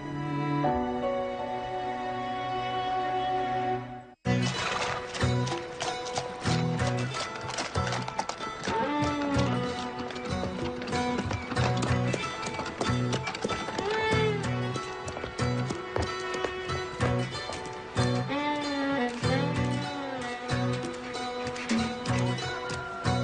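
Horse hooves clip-clopping with a whinny, set against a continuous music score and some speech, loud and steady throughout after a brief quieter opening passage.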